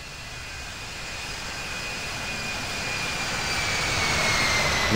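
A United airliner jet takes off from runway 26 right at Las Vegas airport, its engine roar and thin whine building steadily louder, with no voices.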